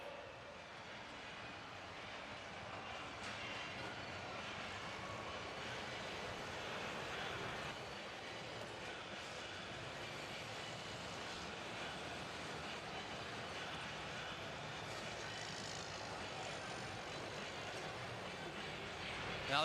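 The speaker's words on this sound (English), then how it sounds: "Now these diesel tractors, obviously tough running machines." Diesel pulling tractors at an NTPA Grand National Circuit tractor pulling event in Freedom Hall, heard as a steady, loud engine roar that fills the hall with constant rumble for the whole stretch, under crowd noise and distant talk.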